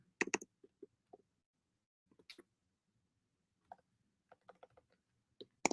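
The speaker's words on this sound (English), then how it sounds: "Typing that in." Scattered keystrokes tapped on a computer keyboard in short irregular bursts, quiet and close, with pauses between clusters of clicks.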